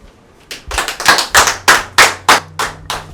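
People clapping in unison to welcome a pastor forward: about nine loud, close, evenly spaced claps in a steady rhythm, with a faint low hum underneath.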